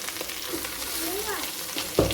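Jackfruit fries in oil in a pot, giving a close, steady sizzle with soft stirring scrapes and a sharper clink of a utensil near the end.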